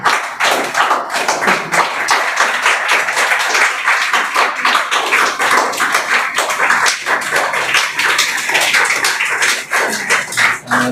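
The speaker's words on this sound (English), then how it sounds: "Keep clapping." A school audience at a Teachers' Day prize ceremony keeps up loud, sustained applause for a first-prize winner. The dense clapping runs without pause for about eleven seconds.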